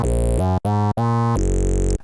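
Arturia MiniFreak synthesizer with the wave shaper on oscillator 1 plays a rich, buzzy sequence of sustained notes that changes pitch several times, with two brief gaps, loud and close, no talking.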